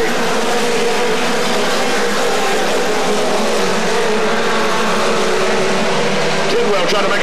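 Pure mini stock race cars roar down the front straightaway at Atomic Motor Speedway, a loud, dense, continuous engine drone heard under an announcer's excited commentary.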